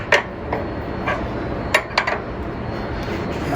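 Tightening a fastener on a motorcycle sidecar mount: several sharp metallic clinks and taps spaced irregularly over a low steady background, close and fairly loud.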